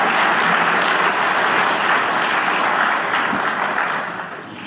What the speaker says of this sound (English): Let's give a round of applause for the first 2 rows who had to do it 100